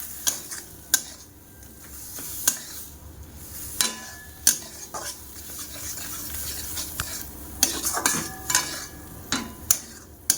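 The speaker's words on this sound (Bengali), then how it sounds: "তেলের উপরে একটু কালো জিরে ফোড়ন দিয়ে তার মধ্যে দিয়ে দিয়েছি বাটাটা" Black cumin seeds temper in hot oil with a ground paste stirred in, a soft steady sizzle broken by sharp spatula scrapes and taps against the pan every second or two.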